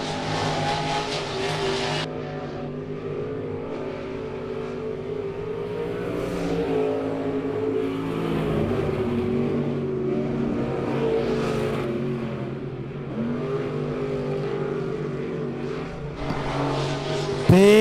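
Race cars lapping Monett Motor Speedway in a weekly oval event, engines roaring loud and steady throughout with rising and falling pitch as the pack passes, a brief drop near the start and a surge at the end.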